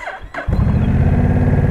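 A small-bore motorcycle engine troubled by moisture cranks twice with short whirring bursts, then catches and runs loud and close with a rough, rapid putter.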